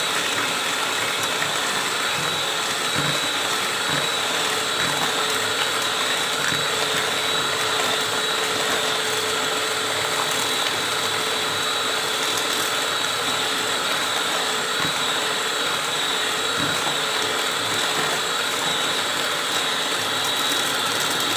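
An electric mixer whirs steadily, beating egg batter for a steamed cassava sponge cake until it turns thick and stiff, a continuous motor hum with faint rhythmic ticks and no talking.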